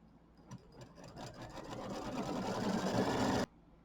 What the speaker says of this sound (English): So I'll go ahead and pause the camera while this quilts.